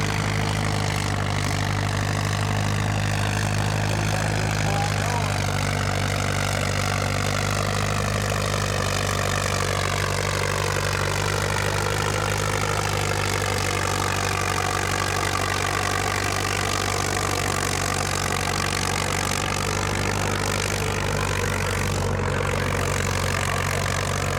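A modified antique pulling tractor, an LEC class machine at 6,000 pounds, idles with a steady, heavy low rumble at a truck and tractor pulling competition, running loud and continuous without pause for the full stretch.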